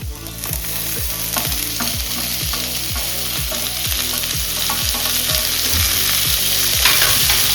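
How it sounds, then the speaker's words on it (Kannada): Tomato goes into onions frying for a potato palya, and a utensil scrapes the pan in a quick, regular stirring rhythm over a loud, constant sizzle, close up with no talking. "ಇವಾಗ ಟೊಮೊಟೊ ಹಾಕ್ತೀನಿ."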